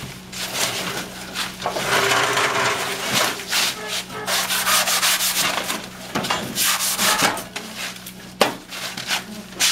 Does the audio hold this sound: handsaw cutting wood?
yes